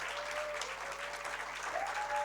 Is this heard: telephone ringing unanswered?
no